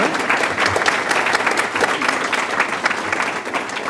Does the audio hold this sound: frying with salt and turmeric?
no